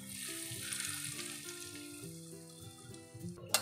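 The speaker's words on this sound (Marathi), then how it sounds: "आता आपली फोडणी झालेली आहे, आपण आता कोशिंबिरीवर घालून घेऊया." Hot mustard-seed tempering with asafoetida poured over a guava salad in the Brahmin style gives a brief sizzle over a steady, fairly faint background, ending in a short louder burst.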